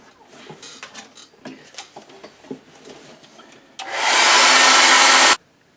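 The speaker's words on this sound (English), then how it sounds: "I'm going to dry the background off with my hairdryer." Soft rustling and tapping, then a loud, steady hair dryer roar runs for about a second and a half before cutting off abruptly.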